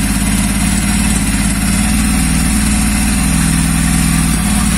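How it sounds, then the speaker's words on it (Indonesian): A Honda Jazz engine runs on a homemade Speeduino ECU and idles while still warming up. The close, steady, pulsing rumble is loud and even, and it continues alone throughout. "Sepertinya posisi idle ada di 1200 ya, cuman belum bisa dituning karena masih pemanasan engine."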